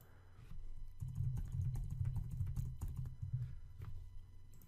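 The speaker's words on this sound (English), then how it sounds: "And now you can start typing whatever you want." Rapid, steady typing on a computer keyboard, a dense run of light clicks and taps close to the microphone, with no one talking.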